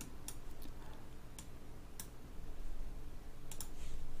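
A computer mouse clicking Apply and OK, with sharp isolated clicks, some in quick pairs, spread over a low steady background hum.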